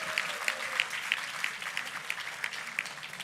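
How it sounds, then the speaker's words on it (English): An audience applauds medal recipients at a convocation ceremony with steady, moderately loud clapping that fills the hall, while one nearby pair of hands claps in a regular beat above the rest. "Please applaud them a little louder."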